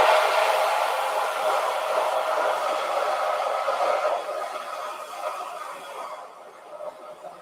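A hair dryer blows to dry paint on a painting, a steady, close whooshing hiss that runs unbroken and eases slightly toward the end. No one talks.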